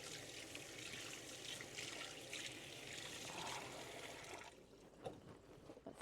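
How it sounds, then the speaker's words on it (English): Water runs steadily from a kitchen tap as hands are rinsed off under it, a continuous broadband splashing close by that cuts off near the end, leaving a few small clinks and drips. "Let me get my hands washed off here a little bit."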